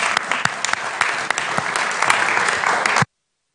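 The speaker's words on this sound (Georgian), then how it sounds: "დიდი მადლობა კიდევ მინდა აქედან გადავუხადო ჩვენ ბიჭებს და ტაში დავაჯილდოთ" Steady, dense applause fills a parliamentary committee hall during a joint session of foreign relations, European integration, sports and diaspora committees, honoring the national basketball players; many hands clap close and loud for about three seconds before stopping abruptly.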